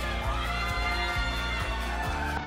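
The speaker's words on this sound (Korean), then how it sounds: "감사합니다. 큰 박수 부탁드립니다." A large crowd at a Democratic Party of Korea leadership convention cheers and applauds after the candidates are announced. A loud, sustained roar of voices and shouting fills the hall throughout.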